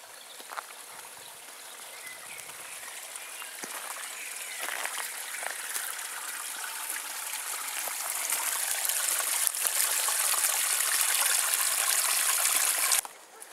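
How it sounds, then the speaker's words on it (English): Water trickles and drains steadily through Stoke Park Woods in Bishopstoke, a continuous close gurgling stream that grows a little louder before stopping abruptly near the end. "more water gathered in the woods, draining away"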